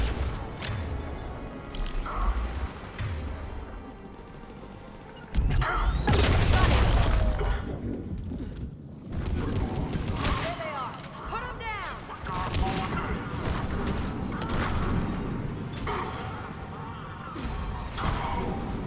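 Bursts of gunfire and crashing impacts during a firefight in the video game Mass Effect 3, dense and loud, with explosive thumps and a player talking over the action.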